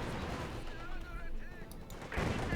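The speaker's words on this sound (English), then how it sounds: "another Katyusha barrage here" Katyusha rocket artillery barrage in Company of Heroes 2, a steady rumbling wash of distant explosions and gunfire with a heavier burst near the end, continuous throughout.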